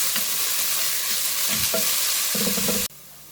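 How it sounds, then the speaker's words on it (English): Three chopped onions sizzle and fry in oil in a cooking pot, a loud, close, continuous crackle with occasional stirring scrapes, cutting off abruptly near the end. "To this add 3 medium-sized chopped onions. Saute for 2-3 minutes."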